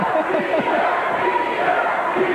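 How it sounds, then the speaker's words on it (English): Fight crowd chanting for Peter Cunningham at a kickboxing bout against Lafayette Lawson, a rhythmic chant rising and falling through the arena under a commentator's voice. "Now the crowd beginning to chant for Peter Cunningham."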